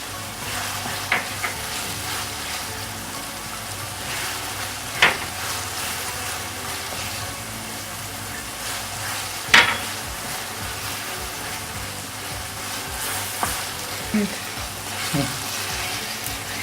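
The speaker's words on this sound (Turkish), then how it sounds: "salçamızı ve diğer baharatları da ekleyerek kavurma işlemine devam ediyorum." Ground mince and onion sautéed with tomato paste and spices for a mantı sauce crackle at a low steady sizzle, broken by a few sharp spoon clinks against the pan.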